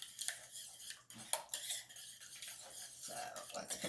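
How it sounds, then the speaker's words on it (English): Buttermilk cake batter for a marble cake being whisked in a bowl: quiet, irregular clinks and scrapes of the whisk against the bowl, close but soft, with a brief louder knock partway through and no speech. "And then you're just going to whisk it together."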